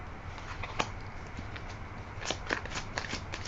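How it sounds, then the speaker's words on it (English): Soft riffling and snapping of tarot cards being shuffled, a few quick bursts of flicks, faint and close, with no talking. "shuffle these cards a bit more."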